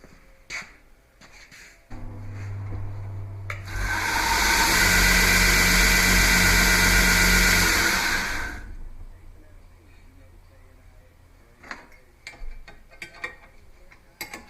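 A belt grinder spins up for rough-grinding the bevel on a stag-handled Bowie knife, a loud steady whine and roar lasting several seconds before winding down, with clicks and handling noises around it.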